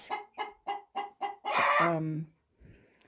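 Chickens in a coop give five short, evenly spaced clucks, then one long, loud squawking call, and a faint rustle follows.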